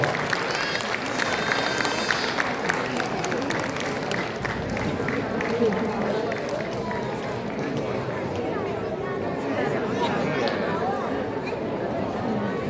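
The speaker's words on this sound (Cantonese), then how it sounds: "大家俾啲掌聲啦！" Audience applause at the opening ceremony of the 27th Yuen Long Arts Festival in Hong Kong, steady clapping and crowd noise sustained throughout, mixed with chatter and voices.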